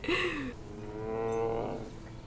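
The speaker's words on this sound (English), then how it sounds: "that must be the same cow" A cow moos in the 2022 horror film Pearl, a single drawn-out low bellow that rises and trails off, close and clear with no talk over it.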